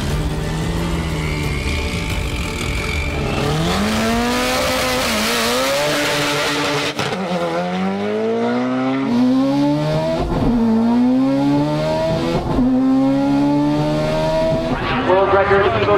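A world-record Mitsubishi Lancer Evolution X drag car with a big Precision 7285 turbo and over 1,000 horsepower launches and accelerates hard down the strip, loud and near, its engine rising through several sharp gear changes, with faint crowd sound around it.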